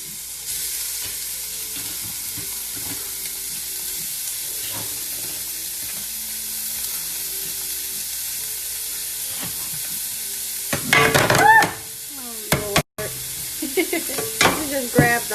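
Cheesesteak meat and mushrooms sizzling in a hot pan, a steady frying hiss throughout with scraping and clattering from stirring toward the end.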